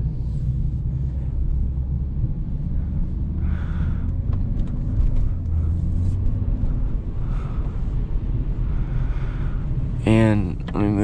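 Inside a 2008 BMW 328xi E90 sedan with the Sport Package, a low, steady engine and road rumble fills the cabin while driving, with light wind noise and a brief squeak near the end.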